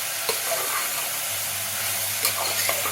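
Chopped green beans frying slowly on low heat in a pan for wheat rava pulao, a steady close sizzle with soft stirring scrapes and no talk.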